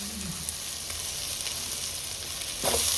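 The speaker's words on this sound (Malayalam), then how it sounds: "അപ്പോൾ ഈ ഉള്ളി നല്ലോണം ഒന്ന് മൂപ്പിച്ച് കുടിക്കട്ടെ കേട്ടോ." Onion browns in a pan for a Kerala-style curry, crackling in a steady hiss throughout, with a sharper burst of sizzling toward the end.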